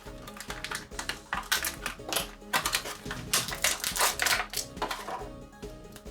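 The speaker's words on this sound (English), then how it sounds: "Let's cut Man-at-Arms free. A couple bands on the back here" The bands holding a Masters of the Universe Origins Man-At-Arms action figure in its packaging are cut: close, irregular small clicks, snips and plastic rattles.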